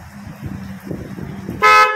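A motorcycle horn gives one short, loud honk after a stretch of low, uneven rumbling nearby.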